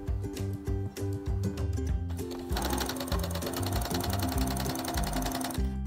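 A sewing machine stitches a small hem on a simple four-rectangle dress. The motor runs in a steady, loud, close, rapid mechanical rhythm for the whole stretch, with no talking.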